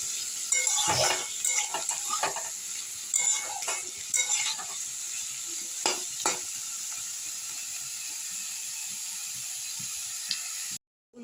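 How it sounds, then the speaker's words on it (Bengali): Potatoes frying in a pan with onion: a soft continuous sizzle under intermittent scraping stirs and utensil clinks in the first half, then quieter frying. "এবার আলুগুলো একটু ভেজে নেবো আমি"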